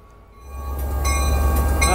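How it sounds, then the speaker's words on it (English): Amtrak Capitol Corridor train 733 pulls out of Richmond station bound for Oakland Coliseum, its rumble swelling from quiet to loud as it gathers pace, with metallic wheel squeals and rattling carriages close by. "733 is now departing. They finally got the green light to clear. Train is on its way to Oakland Coliseum."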